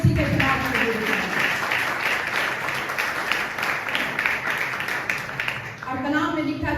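Congregation applause during a church sermon, loud rhythmic clapping filling the room for several seconds, with a preacher's voice heard at the start and again as the clapping fades.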